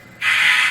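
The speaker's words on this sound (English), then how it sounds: "And the short whistle." Brief toot from an Athearn Big Boy #4014 model steam locomotive with oil tender: one short, clear whistle lasting about half a second, heard alone.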